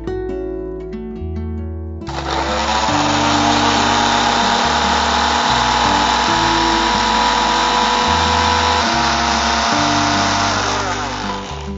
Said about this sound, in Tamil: மிக்சியில போட்டு பொடி பண்ணிடலாம்.